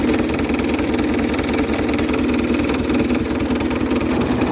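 A John Deere 200 series garden tractor engine idles loudly and steadily up close, a continuous throbbing mechanical drone with no pauses and no talking.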